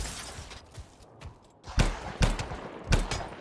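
Gunshots from a player's weapon in the sci-fi shooter Anthem, three loud sharp bursts spaced roughly half a second apart after a softer stretch of scattered combat noise and rumble.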